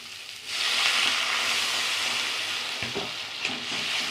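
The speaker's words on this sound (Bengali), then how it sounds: "এবার আমি জল দিয়ে দিচ্ছি।" Water poured into a pan of spice paste frying in oil sets off a loud, steady sizzle that swells in, holds for several seconds, and ends with a few soft stirring clunks.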